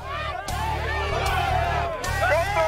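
Football fans shout and jeer as a rowdy crowd is taunted by rival supporters, a dense swell of overlapping yells and chatter with a few louder whoops breaking through.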